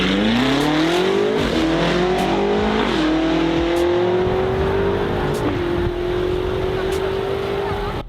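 An 800 hp BMW M5 accelerating hard in a drag race against a Mercedes E63 AMG, its engine note climbing through several gear changes, loud and sustained throughout.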